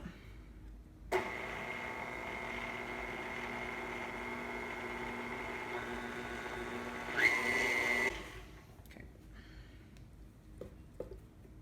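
Frosting ingredients being mixed with an electric mixer, a steady mechanical whir starting abruptly and running for about seven seconds, briefly louder near the end before cutting off, followed by faint clinks.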